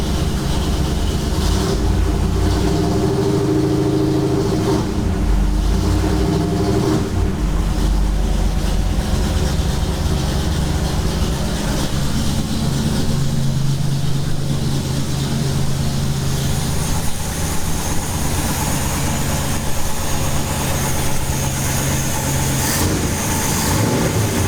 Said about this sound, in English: One thing I just noticed is that the idle speed's a lot higher when it's cold